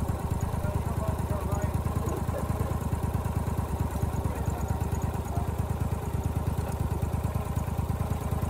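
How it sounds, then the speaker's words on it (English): A gasoline-engine locomotive of a live steam railway club runs steadily close by, its rapid even engine beat continuous and fairly loud throughout, with no other sound standing out. "I had to bring around one of the club's gasoline engines and push it"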